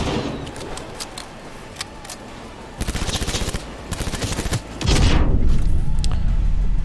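Video game gunfire in Cyberpunk 2077, with rapid bursts of shots that grow denser and louder before a heavy explosive boom and sustained roar near the end.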